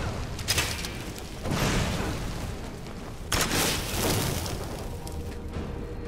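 A fire atronach exploding in the video game Skyrim, two heavy bursting booms a couple of seconds apart, each flaring loudly and then fading into a rumbling tail, with no speech.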